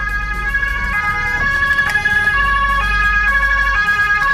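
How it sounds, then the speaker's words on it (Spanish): Ambulance siren sounding on a road, loud and close, a steady electronic wail with shifting pitched tones and a low engine hum underneath. "Por lo general, no suenan así las ambulancias, no sé por qué."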